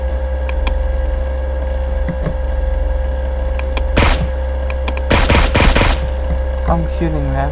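Silenced gunfire in the battle royale game PUBG, a few single shots followed by rapid bursts of closely spaced shots, loud over a steady engine-like hum, with a voice talking near the end.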